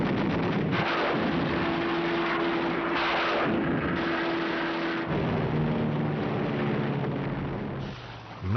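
WWII footage of American fighters strafing military targets and transport links over Japan: dense, continuous roar of aircraft gunfire and explosions with a steady engine drone, loud throughout and fading slightly at the end.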